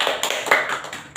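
A few scattered claps in a classroom, sparse uneven hand strikes from a small group arriving in short bursts, fairly close and brief.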